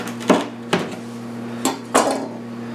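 A knife cuts a thin heel off a pain de mie loaf baked in a Pullman pan, giving four sharp, close knocks against a board at uneven intervals over a steady low hum.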